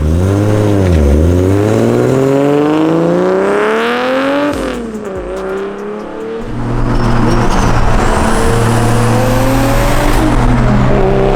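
A single-turbo Ford car engine revs hard, pitch sweeping up and down through several climbs, then drops to a lower rumbling idle with a steady throb, loud and close.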